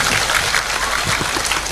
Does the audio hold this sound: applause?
yes